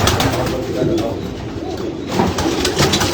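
Pigeons at a breeder's loft in Karachi cooing, soft repeated throaty coos amid a busy chorus of many birds, with some talking in the background.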